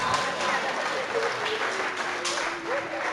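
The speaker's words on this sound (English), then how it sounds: "Could we give Class 4 a round of applause?" A school award ceremony audience applauds Class 4, with a steady wash of clapping running throughout and faint background voices mixed in.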